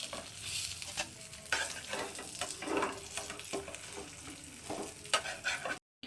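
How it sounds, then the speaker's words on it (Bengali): Eggplant slices sizzling and frying in hot oil in a pan, with steady crackling spatter and occasional stirring clinks, close and continuous, no talking. "বেগুনগুলো আমি লাল লাল করে ভেজে নিয়েছি।"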